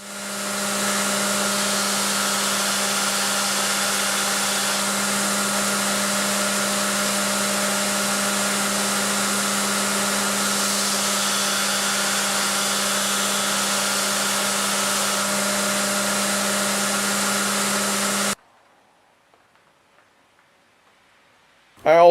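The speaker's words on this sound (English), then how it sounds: "Next, I'll grind in the bevel." A Damascus steel knife blade has its bevel ground on a machine, giving a steady, loud, droning whir with a strong hum that runs unbroken for about eighteen seconds, then cuts off to near silence.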